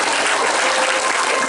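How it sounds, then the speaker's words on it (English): Dense, steady applause from a school assembly audience thanking story authors, a loud, continuous wash of many hands clapping at once with no gaps and no voices breaking through. "give yourselves a big round of applause"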